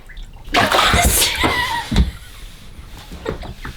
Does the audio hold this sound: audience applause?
no